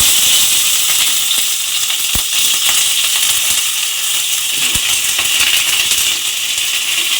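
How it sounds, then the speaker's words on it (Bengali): Slit okra frying in hot oil, producing a loud, dense, steady sizzle with a couple of sharp clinks from a utensil against the pan. "ঢ্যাঁড়সটা আমি এই তেলের মধ্যে দিয়ে দেবো"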